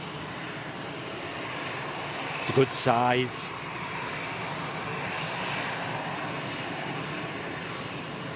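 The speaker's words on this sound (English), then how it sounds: "the A350 is a gorgeous plane" Airbus A350 jet engines at Manchester Airport give a steady, broad roar throughout, with a person speaking briefly over it partway through.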